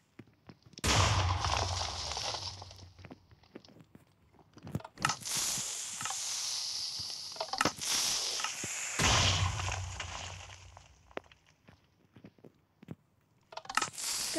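TNT fired from a launcher in Minecraft explodes in a few loud, broad blasts, each swelling and trailing off into crackling debris, with quieter gaps between and no talk.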